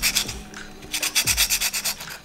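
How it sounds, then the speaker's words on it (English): Rapid back-and-forth rubbing of fine-grit sandpaper on metal fin edges, a quick rhythmic scratching that is close and fairly quiet. "slowly sand down all the edges of these fins with some fine grit sandpaper"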